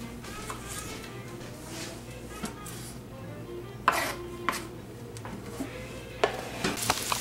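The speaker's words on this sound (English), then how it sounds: "Anita just put the cut okra into the black iron skillet" Cut okra added to a black iron skillet, with a low steady hum under scattered clinks and knocks of utensil on iron and a few sharper hits near the end.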